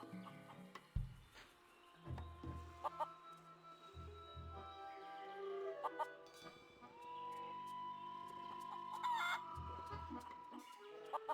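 Chickens cluck and a rooster calls in the Curse of Monkey Island adventure game, sounding repeatedly and fairly close over game music and ambient sound, with a voice briefly talking.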